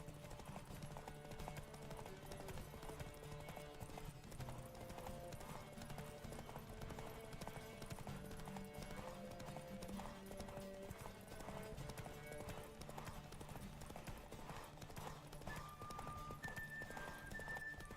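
The horse Roach gallops in The Witcher 3 video game, its hooves drumming in a continuous rapid rhythm under game music, with a faint whinny and some quieter voice in the mix.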